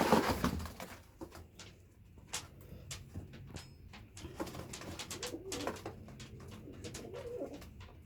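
Pigeons coo and birds call inside a cage holding quails and white pigeons, bought at a bird market, with scattered rustling and clattering between the calls and no talk.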